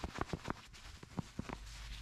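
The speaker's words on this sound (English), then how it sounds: "that's the sound of a plastic insert that keeps the product to the surface instead of wicking into your" Plastic insert inside a P&S Xpress Sidekick interior scrubber pad, heard up close as a series of short, crinkly scuffs and taps at an uneven rhythm, about eight distinct bursts over quiet background.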